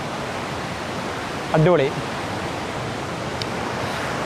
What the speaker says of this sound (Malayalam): ഇവിടെ പറഞ്ഞാൽ റോഡിൻ്റെ മുകളിൽ കൂടി ഒരു അരുവി ഇങ്ങനെ ഒഴുകി പോവാണ്